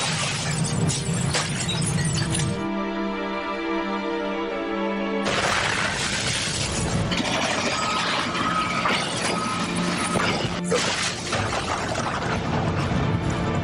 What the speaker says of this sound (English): Waves shake the ground from side to side, twisting railway lines and shattering concrete structures.